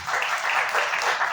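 Audience applause welcomes a speaker to a lecture on ancient Tlaxcala, a brief, steady wash of clapping from a seated crowd.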